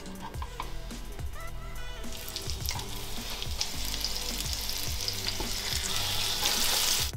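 Steady sizzling and crackling of parrotfish pieces frying in hot oil in a pan, continuous and growing slightly louder, with occasional low clatters.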